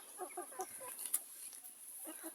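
Young backyard chickens, including white-tailed hens, give soft intermittent clucks in short bursts, fairly faint and close by, with no one talking.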